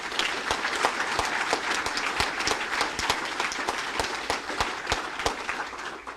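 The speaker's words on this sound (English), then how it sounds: "Let's have another round of applause for them." Audience applause at a bill signing event, a steady dense wash of many hands clapping for the full stretch with no voices over it.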